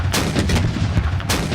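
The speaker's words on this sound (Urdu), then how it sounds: "نور خان ایئر بیس پر لینڈنگ ہوتے ہی 21 توپوں کی سلامی دی گئی" Cannon salute firing at Nur Khan Airbase, a 21-gun ceremonial welcome: heavy booming blasts with a sharp report near the start and another toward the end, rumbling over steady low background noise, no voices.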